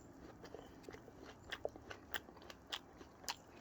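A Red Delicious apple, very short-stemmed and thin-skinned, is bitten and chewed up close, giving a series of crisp, moist crunches that are irregular and fairly quiet, with no talking.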